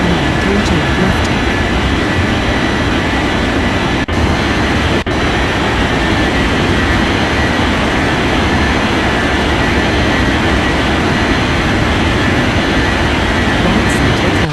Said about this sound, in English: Left runway 2511 cleared for takeoff runway 32 left.